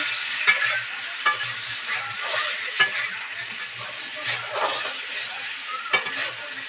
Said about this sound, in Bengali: এবার সিদ্ধ আলুগুলো দিয়ে দিচ্ছি এবার আলুগুলো একটু ভালো মতো লাল লাল করে দিচ্ছি